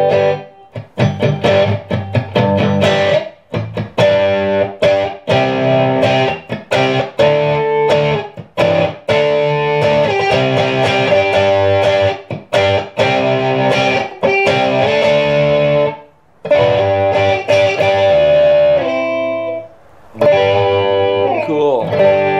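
Loud distorted electric guitar from a Mexican Telecaster playing chords and riffs with a crunchy, overdriven tone, pausing briefly twice before resuming.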